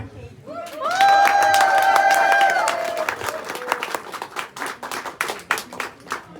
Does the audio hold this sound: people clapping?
yes